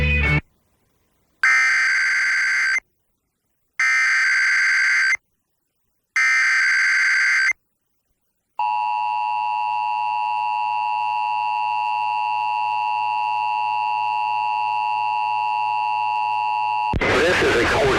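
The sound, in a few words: Emergency Alert System required monthly test alert tone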